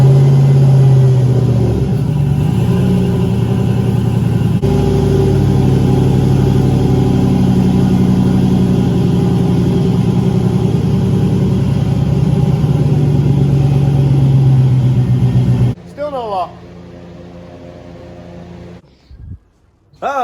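A turbocharged LS V8 in a Caravan fitted with a 4L80E automatic transmission runs at a steady, loud idle for about fifteen seconds, then shuts down, with brief rattles and clicks afterward.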